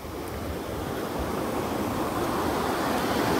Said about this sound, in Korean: 와 파도가 저 신발하고 옷을 다 삼켜버리네요.